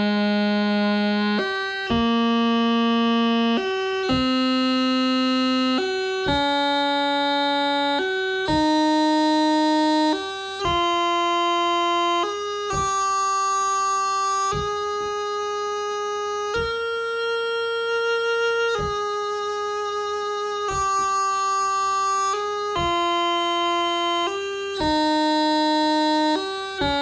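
Bagpipe practice chanter plays a traditional tune from low G, each melody note split by a crisp G gracenote, giving a steady, reedy stepping sequence of sustained tones, loud and close with no talking.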